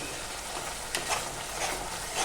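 Ground spices cooking down in hot oil with cumin powder, coriander powder, a little sugar and salt for a paneer kofta curry, giving a steady broadband sizzle with faint scraping stirs, fairly close and alone.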